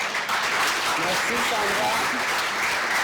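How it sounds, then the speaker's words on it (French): Audience applause at the closing ceremony of a 2025 summit, a broad steady clapping throughout, with someone briefly speaking over it. "je vous demande réellement d'applaudir l'équipe qui est derrière tout ça"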